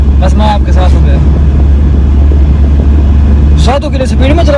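A car driven at speed fills the scene with a loud, constant low engine and road rumble, with people talking over it throughout.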